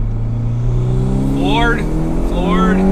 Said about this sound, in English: let's see if I can get a little second gear pull, see how the car does